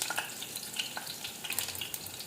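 Garlic sizzles and crackles steadily in hot oil in a pan for tempering, a faint, continuous hiss dotted with small pops.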